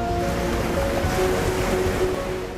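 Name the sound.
sea waves crashing on rocks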